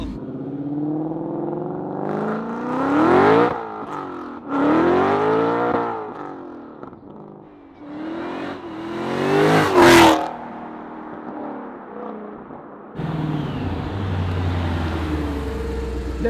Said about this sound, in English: I've never been behind a car that made my ears actually hurt.